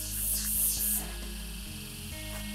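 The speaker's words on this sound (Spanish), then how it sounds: "Ese es el sonido de la selva." Jungle ambience near Iguazú Falls: a dense, continuous wash of broadband noise with a steady low hum beneath and brief shrill bursts riding on top early on, with no speech.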